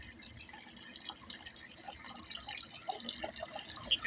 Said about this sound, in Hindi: अब फिर पानी खोलते